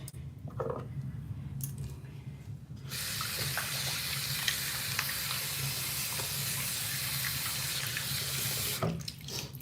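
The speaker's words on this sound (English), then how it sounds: "We're just gonna wash these off and we're gonna piece the valves back together real quick." Tap water runs steadily into a sink while euphonium piston valves are washed, a close, continuous hiss and splash that starts and stops with brief handling noises at either end.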